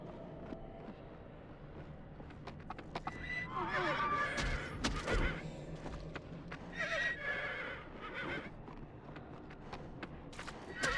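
Horse in the video game Champions: Return to Arms, several loud whinnying neighs with clip-clop hoofbeats and game sound effects, fairly close, no one speaking over it.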